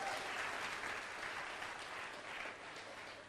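An audience at a motivational success seminar applauds, a soft, steady wash of clapping that stays faint and even throughout.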